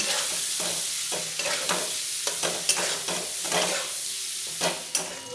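Eggs frying in hot oil with turmeric powder and salt, sizzling steadily while a utensil scrapes and stirs the pan in repeated strokes, close and moderately quiet, no voices.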